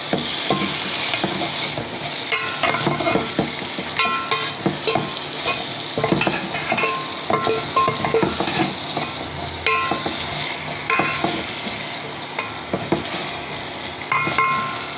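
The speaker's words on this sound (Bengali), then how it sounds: "একসাথে আমি আদা রসুন পেঁয়াজ মরিচ বাটা হলুদ জিরার ফোড়ন সব কিছুতে মাছগুলো কষিয়ে নিচ্ছি।" Pangas fish coated in ginger, garlic, onion and chili paste with turmeric and cumin sizzles in a pan, with steady frying hiss and repeated scraping stirs throughout, close and loud, with no talking.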